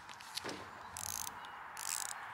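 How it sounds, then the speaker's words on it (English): A ratchet working on a stubborn bolt during firewall insulation work on an abandoned C4 Corvette, two short bursts of rapid clicking, close and clear with faint handling in between. "I'm able to tape it in this ratchet here."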